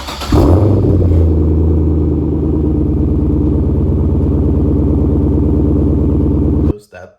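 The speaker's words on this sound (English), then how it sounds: "I'll try to throw up a cold start here so you can hear that" A car engine cold start: it cranks and catches, then settles into a loud, steady rumbling idle before cutting off abruptly.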